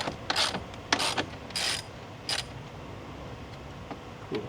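A wrench works a 12mm center bolt on a third-generation Chevrolet Colorado truck, giving short bursts of metallic ratcheting clicks, several quick runs in the first half, then a few faint isolated ticks.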